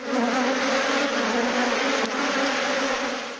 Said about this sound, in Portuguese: A utilização das abelhas, tanto com ferrão quanto as abelhas sem ferrão, ela é primordial